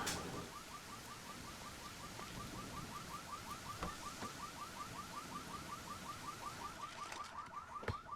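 A car alarm blares in a survival video game, its rapid repeating electronic whoop cycling steadily and loudly over a dense background wash of noise for the whole stretch.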